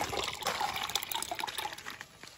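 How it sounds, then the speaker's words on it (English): Seawater pours into a glass with lemon for a drink, a close, splashy trickle and gurgle of liquid lasting a couple of seconds with no voices. "I put one part of seawater"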